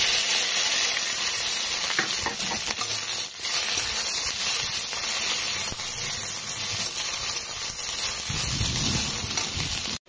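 Garlic and cumin seeds frying in hot oil make a steady, loud sizzle and hiss that runs continuously. A brief stirring scrape comes near the end.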